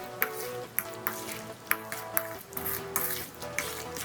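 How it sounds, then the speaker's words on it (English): A spoon stirs mango pie filling in a bowl, with rhythmic scraping and sharp ringing taps against the bowl about twice a second, close and steady with no talking. "You want to mix it perfectly."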